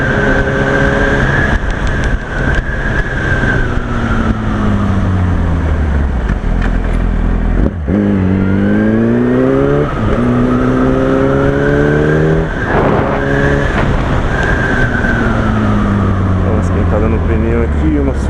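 A Yamaha R1 sport motorcycle ridden on a road, loud close engine revving up and down through gears with rising and falling pitch sweeps, steady wind and road noise throughout.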